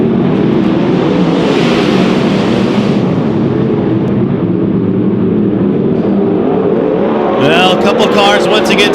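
410 sprint cars roar around the dirt Silver Dollar Speedway, a loud continuous engine drone with passing surges, while an announcer talks over the racing.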